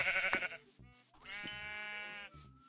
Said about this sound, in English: I'm just killing sheep.